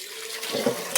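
Potatoes being washed by hand in water in a home kitchen, with a soft, steady sloshing and splashing that swells midway and ends in a brief sharper splash.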